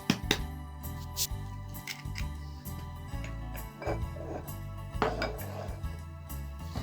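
Egg is added to 150-200 grams of butter in a bowl for cinnamon Christmas cookies, and a utensil mixes and knocks against the bowl in repeated clinks and scrapes, up close and without talk.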